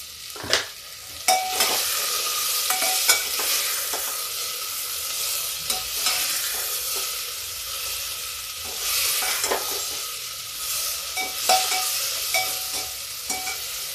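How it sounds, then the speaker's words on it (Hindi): Peas and cluster beans are fried in a pan with a continuous sizzle. A spatula stirs them with frequent scraping clicks and taps against the pan, close by, and no voices are heard. "ये सब्जी थोड़ा सा भून जाएगी, इसके बाद हम मसाले डालेंगे।"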